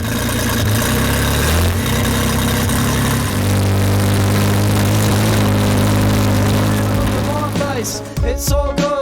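A 1988 Holden VL Turbo Commodore with a single overhead cam engine runs loud and steady at a car show, with a deep continuous drone and music cutting in near the end.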